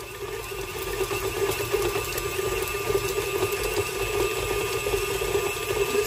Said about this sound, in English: you're just gonna beat together the butter and the cream cheese until it's pretty creamy